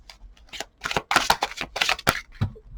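Tarot cards being shuffled by hand: a series of irregular crisp riffles and sharp snaps, clustered in quick bursts with short gaps, close and fairly loud, with no speech.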